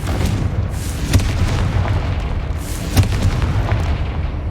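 Booming blasts from the Confringo fire spell in the Hogwarts Legacy video game, two sharp explosive hits over a continuous dense rumbling battle din.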